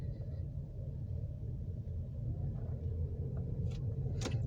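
A learner driver's car idles with a steady low engine rumble that swells slightly as the gas is pressed, with a few faint clicks near the end.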